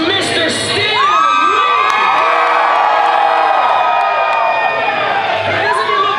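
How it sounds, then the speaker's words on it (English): A large crowd of Giants fans cheers, whoops and applauds loudly and steadily for Stan Lee at a San Francisco Giants event, with high shouts riding over a dense roar throughout. "let's give a big round of applause to Mr. Stan."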